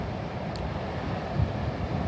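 Steady wind buffets the microphone, a low, rough rumble that stays constant with no other distinct sounds.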